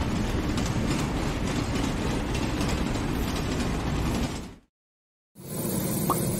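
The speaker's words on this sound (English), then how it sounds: "This is a train." A train rolling along rails gives a dense, continuous clattering rumble with rhythmic mechanical ticking, loud and close, interrupted by a brief silent gap before resuming.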